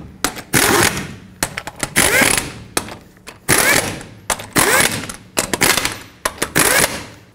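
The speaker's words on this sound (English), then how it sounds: "Once all of your lug nuts are started, go ahead and bottom them out and then torque them to 140 foot-pounds." Lug nuts are driven tight on a Chevy Silverado wheel with a pneumatic impact wrench, giving loud, close rattling bursts in repeated runs with brief pauses between.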